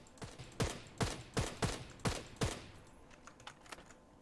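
Gunfire in the shooter game Knives Out: a run of six sharp evenly spaced shots, then fainter scattered pops trailing off, with no talk over it.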